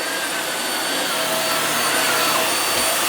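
A Hoover Windtunnel Air vacuum cleaner runs steadily, giving a close, continuous broadband whoosh of airflow and motor whine with no pauses and no talking.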